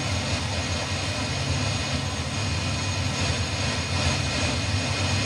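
A DHC-3 Turbo Otter's turboprop engine climbs after takeoff in a flight simulator, a steady, loud, broadband drone that holds constant throughout with no talk.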